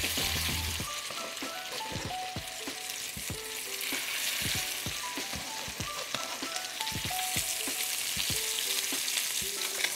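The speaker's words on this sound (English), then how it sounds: "If you hear this sizzle, that means that your pan is hot enough" Salmon frying skin side up in a hot pan, a dense, steady sizzle running throughout with scattered crackles and pops, close and fairly loud, with no talking.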